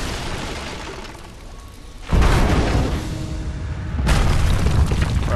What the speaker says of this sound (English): we gotta shoot this explosive so these explosives will blow up